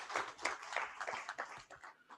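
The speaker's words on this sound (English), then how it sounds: "Let's give him another round of applause." A few people clap in a scattered, uneven rhythm at an annual general meeting, quiet and sparse rather than a full ovation.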